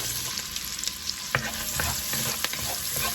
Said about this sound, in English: And we're just going to coat those in all that yummy butter and let these saute for a few minutes.